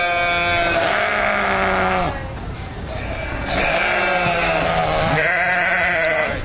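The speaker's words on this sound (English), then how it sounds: "whatever you call that noise that the goat makes" Edited goat bleats, loud and close, several wavering cries joined one after another with brief dips between them and no pause in the sound.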